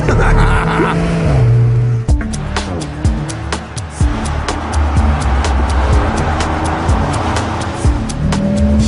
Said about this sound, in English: Hear that noise outside. Wonderful. Who needs a muffler?